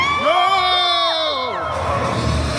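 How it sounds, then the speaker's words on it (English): A large crowd at a Halloween Horror Nights event at Universal Studios Singapore screams and cheers loudly, with high whoops and shouted voices rising and falling together in a continuous roar. "Let me hear you scream!"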